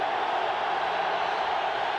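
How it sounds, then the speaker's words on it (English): Stadium crowd at a 1995 Steelers home football game against the Chargers, a dense steady roar of many voices with no individual words standing out. "this crowd making it tough to hear"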